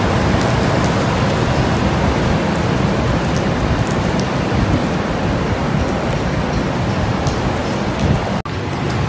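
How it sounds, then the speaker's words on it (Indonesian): Heavy rain falls from dark clouds in a dense, constant hiss, loud and close, with no other sounds until it cuts out sharply near the end. "Hujan coy."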